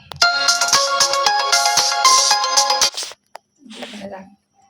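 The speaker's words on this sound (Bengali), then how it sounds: "আমাদের ফোন আসছে" A mobile phone ringtone plays a bright repeating melodic tune loudly for about three seconds in a home kitchen, then cuts off, followed by a brief voice.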